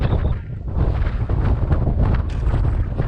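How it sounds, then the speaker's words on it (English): Loud, steady wind buffeting a microphone outdoors on a cold day, a continuous low rumble with gusty swells running the whole time and no voices. "It's just bloody windy, so I might have to voice over on some of this"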